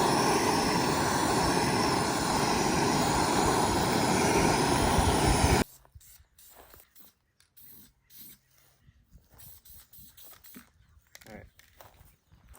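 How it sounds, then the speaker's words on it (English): A torch roars in a loud, dense, continuous hiss while burning oils off an old V8 engine, then cuts out abruptly about halfway through, leaving quieter scattered handling noises. "you can see the torch just burns off the oils"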